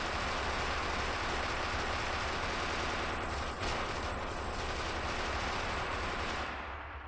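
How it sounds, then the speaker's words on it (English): Rapid, continuous automatic gunfire from a gun in a Minecraft weapons mod, a dense, loud, unbroken stream of shots lasting several seconds before tapering slightly at the end, with no talking. "So that's how you shoot this gun."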